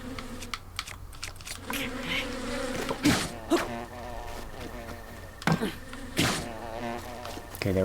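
Insect-like buzzing of bees in the video game The Legend of Zelda: Breath of the Wild, a steady drone under game music and sound effects, with a few sharp impact bursts.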